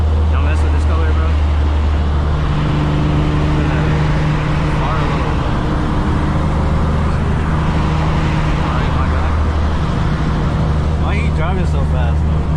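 A single turbo G35, freshly street tuned, drives fast, heard from inside as a loud, continuous low engine drone with steady road roar and shifting tones, while people talk over it.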